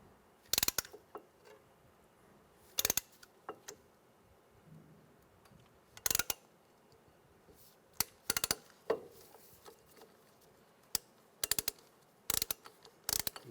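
A tool compressing the front brake caliper piston on a 2004-2009 Toyota Prius, slow repeated ratcheting clicks in short bursts with quiet gaps between them, close and fairly soft.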